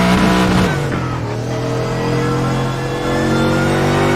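Mercedes-AMG GT3 race car engine in a sim racing game at the Nurburgring, loud and continuous, with a downshift dropping the engine note as the car brakes into a left-hand turn, then holding a steady drone.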